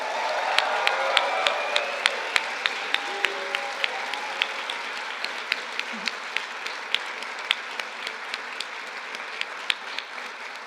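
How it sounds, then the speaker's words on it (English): Sustained applause from a large commencement audience for the graduating PA class of 2023 at Rocky Vista University's Colorado campus, a dense steady roar of many hands with scattered louder claps and faint cheers throughout. "let's give one more round of applause to the graduating class of 2023"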